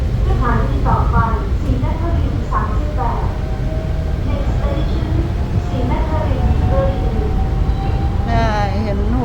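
Steady rumble inside a moving Bangkok skytrain, with a continuous low drone and a rising electric whine, while people talk nearby throughout.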